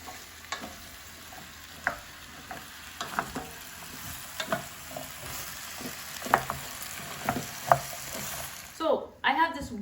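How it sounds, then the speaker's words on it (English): Butternut squash being stirred into frying onions in a pot over raised heat: a soft constant sizzle under repeated scraping, clacking strokes of a spoon, with a louder clatter near the end. "I'm just gonna incorporate all the butternut squash in the onions"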